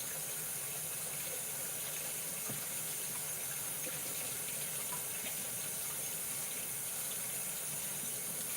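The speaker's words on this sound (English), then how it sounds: "We get my hands a rinse." A kitchen sink tap runs steadily while hands are rinsed, a soft continuous hiss of flowing water at low level with no talking.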